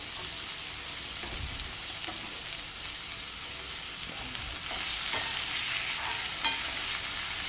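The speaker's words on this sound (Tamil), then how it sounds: "மஞ்சத்தூள், உப்பு எல்லாம் ஒன்று சேர்த்து வதக்கிடணும்." Tomatoes sautéing with salt and turmeric in a pan give a steady, close hiss of sizzling with soft stirring, growing slightly louder toward the end.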